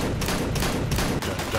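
Counter-Strike gunfire rattles in rapid fusillade bursts, several repeated volleys of loud shots packed close together with no speech.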